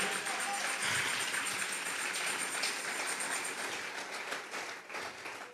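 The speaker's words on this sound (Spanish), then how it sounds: "Vamos a regalarle ofrenda de palmas al Dios de la gloria." A church congregation at a Tuesday Bible study claps together as an offering of praise, a dense continuous wash of applause that fades slightly toward the end, mixed with indistinct voices.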